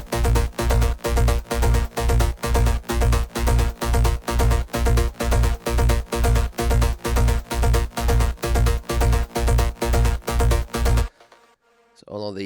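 Stacked synth bass lines from a Logic X session for a track thump in a steady, heavy, saturated pulse, about two beats a second, for roughly eleven seconds. They then cut off abruptly into near silence.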